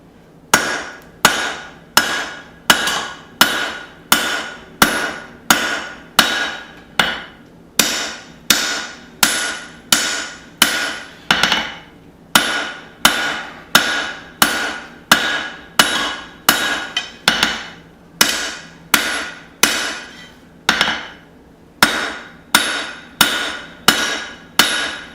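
A hammer forges an African safari knife on an anvil. Sharp, ringing blows fall in steady rhythmic bursts, roughly forty in all, with short pauses between runs and no talking.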